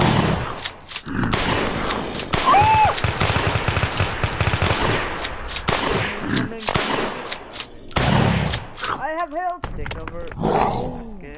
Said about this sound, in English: There you go, shotgun time.